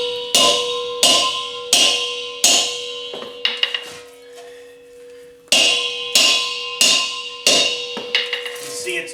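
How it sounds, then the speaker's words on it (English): Hammer blows strike the stuck valve on an overturned propane tank, about eight loud ringing metallic whacks spaced roughly a second apart with a short pause midway, each leaving a bright sustained clang. "what we're going to do is give it a couple good whacks and see if we can get it to break loose"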